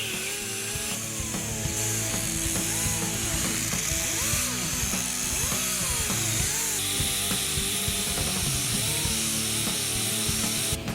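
Students clean the gasket surfaces of a 1948 Chevy cylinder head in a shop, producing a continuous, fairly loud whining and scraping tool noise whose pitch wavers up and down throughout.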